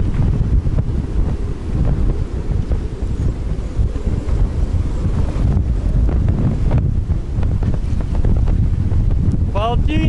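Hurricane Nicole's wind roars in Hooker Bay, Florida, around a boat anchored on its chain. The rumbling gusts are loud and continuous, buffeting the microphone the whole time.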